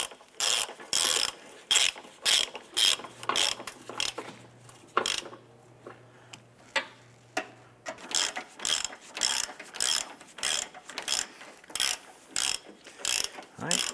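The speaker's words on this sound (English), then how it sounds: "tighten down the 3 bolts for the base mount to the chassis, and then we'll tighten up the engine mounts" A ratchet clicks in quick, steady bursts while the three base-mount bolts and the engine mount bolts are snugged down on a 2011-2019 Ford Fiesta, with a short pause partway through before the rapid clicking resumes.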